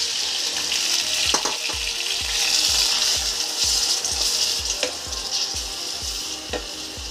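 Sago poha with tomatoes sizzles steadily in a frying pan, with repeated scraping stir strokes in a regular rhythm, close and fairly loud, with no voices.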